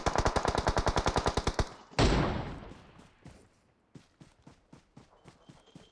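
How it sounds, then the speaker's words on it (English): A loud, rapid burst of automatic gunfire in the PUBG video game on the Sanhok map, followed by a single heavy blast and then quieter, evenly spaced distant shots. "Someone else is shooting them."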